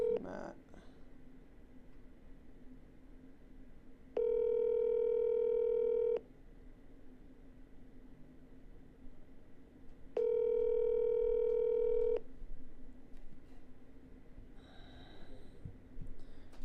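A phone line rings out on a call, two identical long electronic ring tones separated by a pause, clear and steady over faint background hiss, with a little breathing and handling noise nearby.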